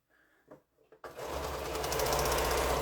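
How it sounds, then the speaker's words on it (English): A sewing machine stitching a quilt strip-set seam starts after a second of faint handling noise, then runs steadily with a rapid even needle rhythm, close and loud. "So I'm just going to go ahead now and sew this last seam to get our strip set together."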